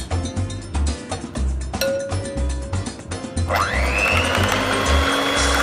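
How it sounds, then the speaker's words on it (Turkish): An electric hand mixer whirs loudly and steadily, whisking flour into a tripe soup mixture, its motor pitch rising as it speeds up, with rhythmic clattering from the beaters against the bowl. "İyice mikserle çırpıyoruz."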